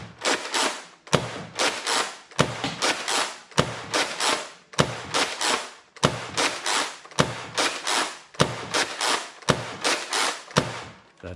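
A Nerf Rival Atlas blaster with hop up fires about a dozen single shots in a steady rhythm, each a sharp close pop followed by a short whirring burst, loud and alone.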